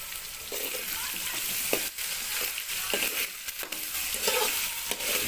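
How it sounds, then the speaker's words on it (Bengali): Pointed gourd and bitter gourd frying in hot oil in a wok, a dense, continuous sizzle with periodic spatula scrapes and stirring knocks throughout, close and fairly loud, no speech. "পটল উচ্ছে ফ্রাই হচ্ছে"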